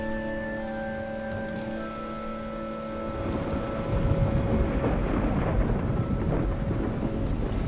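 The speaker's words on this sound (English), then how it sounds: "So as you see, we're about to get into a storm now." A storm in the naval combat game Bannerlord War Sails, with steady heavy rain and rumbling thunder that swells midway, filling the scene loudly with no speech.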